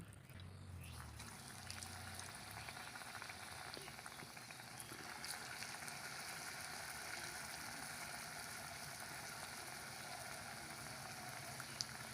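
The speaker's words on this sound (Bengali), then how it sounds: "এবার ভেজে নেব।" Homemade biscuits coated in crushed nuts frying in oil, a faint steady sizzle and bubbling hiss that runs continuously without talk.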